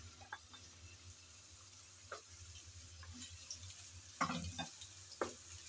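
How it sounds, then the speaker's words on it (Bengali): Eggs and potatoes fry in a pot meant for khichuri, giving a faint, steady sizzle broken by a few louder spatters and stirring scrapes toward the end. "আমি যে পাত্রে খিচুড়িটা বসাবো সেই পাত্রে একেবারে ডিম আলু ভেজে নিচ্ছি"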